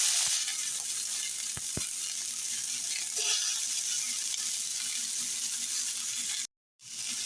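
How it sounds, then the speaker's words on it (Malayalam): Two small, lengthwise-sliced onions hiss in hot oil in a pan for a fish curry, a steady close sizzle with faint scrapes that cuts out briefly near the end. "ഇനി ഇതിലോട്ട് 2 ചെറിയ സവാള നീളത്തിൽ കട്ട് ചെയ്തിട്ടുള്ളത് ചേർത്ത് കൊടുക്കാം."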